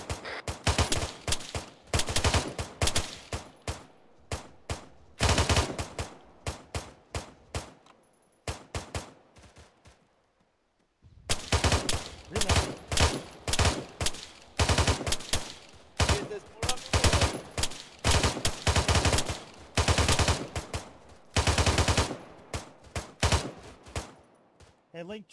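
Sustained bursts of mounted-gun fire in a military shooter video game, loud and repeated in long volleys with a brief lull midway, continuing to the end.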